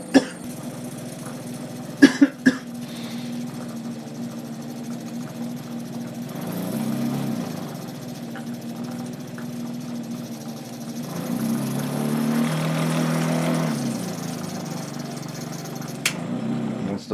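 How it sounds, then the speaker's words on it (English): A sewing machine winds thread onto a bobbin, a low mechanical hum that swells and eases in two stretches. Sharp clicks and knocks come near the start, and a faint click sounds near the end. "once the bobbin is full, it clicks off and stops winding."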